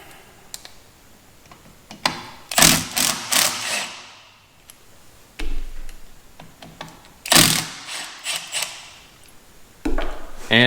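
Removing Torx T40 rotor screws on the front brakes of a 2006-2012 Ford Fusion, heard as close, loud bursts of tool rattling and whirring with short pauses between them.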